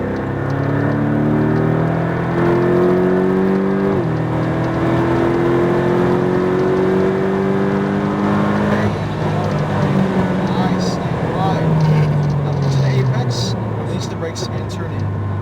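A car accelerates hard at full throttle, heard from inside the cabin. The engine note climbs steadily in two long, loud pulls, with voices talking over it.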